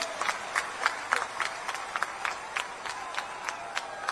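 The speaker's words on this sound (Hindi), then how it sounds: "एक बार जोरदार ताली बजाकर उनका स्वागत करें" A crowd at a Rahul Gandhi public meeting in Kawardha, Chhattisgarh, claps in scattered bursts for a leader taking the stage, the sound moderate and somewhat distant with irregular sharp peaks.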